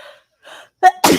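A single sharp sneeze bursts out close and loud after a quick inhaled gasp, with brief quiet voices just before it.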